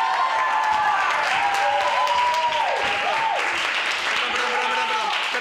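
An audience applauds dancers at a televised show, a dense, steady wash of clapping throughout while voices talk over it.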